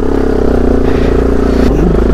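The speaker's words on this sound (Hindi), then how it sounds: "बाइक नहीं चल रही है भाई" A carbureted motorcycle of about 200 to 250 cc strains on a steep mountain road in Zanskar, Ladakh, its engine thumping loudly and roughly in a steady low pulse with a clattering stumble near the end.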